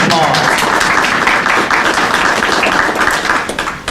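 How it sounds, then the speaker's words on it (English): Applause from an audience at a press conference: close, busy clapping that holds steady, then begins to thin and fade toward the end. "Can you help me give them all, give yourselves, please, a round of applause."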